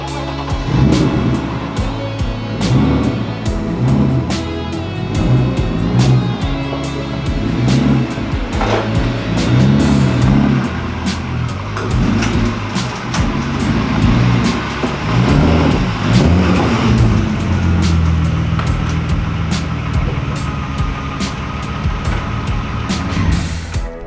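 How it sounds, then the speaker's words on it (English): A BMW E36 engine running as the car drives, the motor revving up and down in repeated surges, close by with no talking. "Just gonna pull the car back in"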